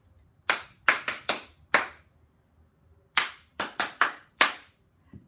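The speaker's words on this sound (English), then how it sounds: "Let me demonstrate a pattern for all of you as I'm clapping" A teacher claps out a rhythm pattern for a first-grade music lesson: two groups of sharp, close hand claps, five in each, separated by a short pause, each clap crisp and evenly spaced.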